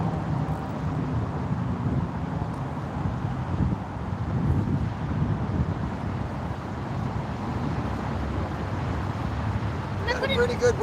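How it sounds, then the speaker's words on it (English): Wind blows steadily at a riverbank during flathead bank fishing, producing a constant low rumble and buffeting against the microphone with no breaks. "Got a pretty good wind coming right at us"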